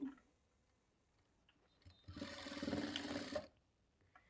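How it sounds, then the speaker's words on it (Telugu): Sewing machine stitching the side seams of a blouse, running in one steady burst of about a second and a half after quiet handling sounds. "ఇప్పుడు ఇక్కడ నుంచి స్టార్ట్ చేసుకొని మనం సైడ్ జాయింట్లు స్టిచ్ చేసుకోవాలి"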